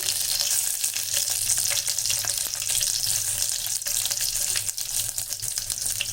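Fenugreek seeds splutter and sizzle steadily in hot oil while garlic rasam is being made, a dense, continuous crackle with small pops close up and no talking.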